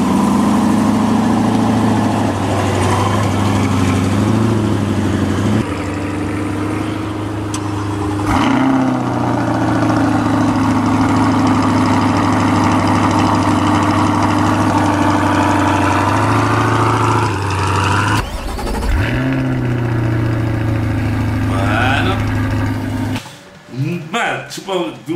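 Corvette engine idling with a steady, loud low rumble and a few rises in revs, sounding close and continuous throughout, with people talking over it.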